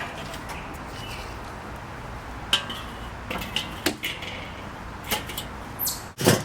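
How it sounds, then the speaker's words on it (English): A metal grate is set back onto a charcoal grill, giving a few sparse clanks and scrapes against a quiet outdoor background with faint bird calls. "Then after that, you're going to put your grate back on."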